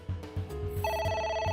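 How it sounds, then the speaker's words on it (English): A telephone rings in the video game AI: The Somnium Files, its bright electronic trill starting partway through and repeating steadily over a low, pulsing game soundtrack. "Oh, the phone's ringing."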